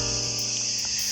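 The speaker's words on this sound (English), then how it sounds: "The cicadas are not letting up, so apologies if that is part of the audio and is painful." Cicadas buzz in a steady, dense drone inside the Venetian fortress at Rethymno, Crete, by the Sea of Crete, a loud continuous insect chorus that fills the whole clip without pause.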